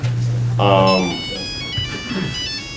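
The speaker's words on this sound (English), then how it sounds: "That's my stupid phone." Mobile phone ringtone going off in a room during a teachers' talk, a short loud melodic electronic tune starting abruptly after a low hum, then fading as people murmur and speak over it.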